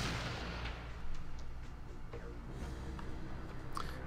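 Gunfire in the video game Fallout 2 during a fight with Salvatore's men, heard as dense, loud booming shots and blasts that run continuously through the whole stretch.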